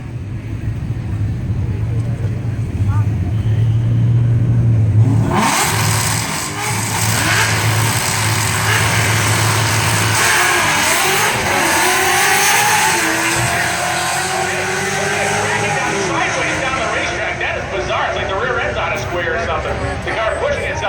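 A 1993 Mustang LX drag car launches at an NMRA event and runs sideways down the strip, its engine roaring loud and broadband after a low idle, fading as it crab-walks away over crowd noise and a commentator's voice.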